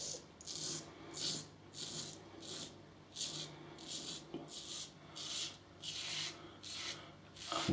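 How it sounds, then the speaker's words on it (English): A wet razor shaves against the grain of the beard during a third pass over a lathered face, giving rhythmic scraping strokes with short pauses between them, faint but close, with no talking. "And the razor's singing now, you can hear it."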